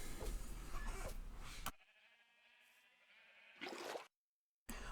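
Minecraft sheep bleat in a few close, wavering calls, with quieter game ambience and a brief silent gap in between.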